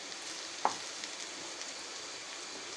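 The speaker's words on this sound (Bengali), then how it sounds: "ডিমটা আপনারা চাইলে আলাদা করে ভেজে নিতে পারেন, কিন্তু আমি একসাথেই ভেজে নিচ্ছি।" Egg frying together with vegetables in a pan over high heat, a soft continuous sizzle with one small clack near the start, heard alone and fairly faint.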